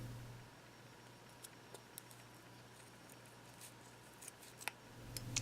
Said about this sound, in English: grab your scissors and do the other side